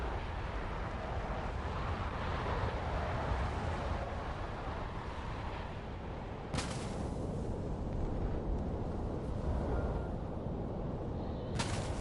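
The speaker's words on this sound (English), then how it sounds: "Oh crap, that's a missile." A missile explosion in the War Thunder video game, heard as a loud, dense rumbling blast that fills the scene, with sharp bursts cutting in near the middle and at the end.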